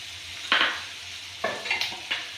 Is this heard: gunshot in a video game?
no